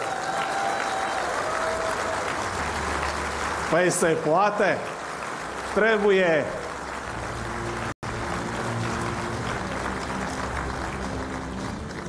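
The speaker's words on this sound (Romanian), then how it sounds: "Haideți să-l aplaudăm." An audience at a political event claps steadily in a hall. The applause is a broad, continuous wash that carries through the whole stretch, with a voice speaking briefly over it midway.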